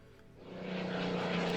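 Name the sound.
Messerschmitt aircraft engine in video game Order of Battle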